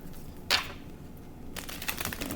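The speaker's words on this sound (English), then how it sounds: "Let me shuffle." A brief riffle of a tarot deck, then a longer run of soft, rapid shuffling taps, close and quiet with no talking.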